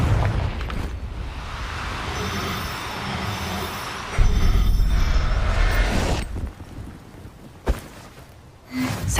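The Confringo spell bursts in the video game Hogwarts Legacy. Rumbling game ambience swells into a loud, close explosive blast, followed by crackling debris and a few sharp pops as the noise fades.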